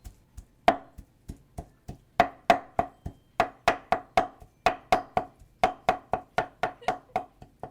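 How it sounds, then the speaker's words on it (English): Heavy cleaver blows chop through meat and skin on a board, a steady run of sharp, close knocks about two or three per second, clear and alone. "chop the meat and skin with a cleaver or a couple of your heaviest knives"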